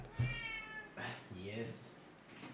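A cat meows a couple of times nearby, drawn-out and tonal, with a person talking around the calls.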